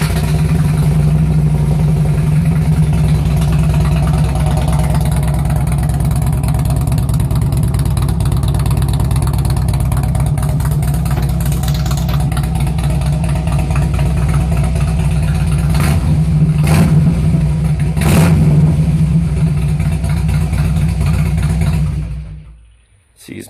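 A Harley-Davidson Road King exhales through custom-modified mufflers with the baffle pipes altered. A loud, deep, even idle rumbles close by for a long stretch, with a couple of quick throttle blips near the end before it cuts off.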